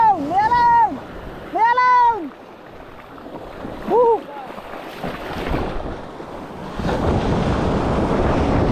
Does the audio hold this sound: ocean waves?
yes